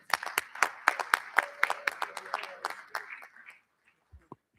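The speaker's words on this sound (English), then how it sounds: "I'd like to give them a round of applause." A short round of applause at a school board meeting: a scattered crowd claps with dense, irregular hand claps and a murmur of voices underneath, then the clapping fades out after about three seconds.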